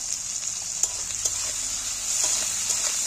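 Chopped green chilies and capsicum sizzle steadily in hot oil, a continuous bright crackle with a few stirring knocks, close and moderately loud with no talking.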